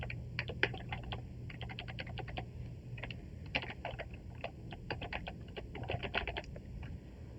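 Rapid keystrokes on a computer keyboard as an email address is entered, irregular clusters of crisp clicks at close range over a low steady hum, with no voices.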